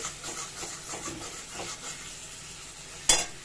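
Pointed gourd (potol) frying with spices in a pan on a gas stove set low, soft sizzling with gentle stirring and scraping strokes, faint and close, ending in a sharp clatter.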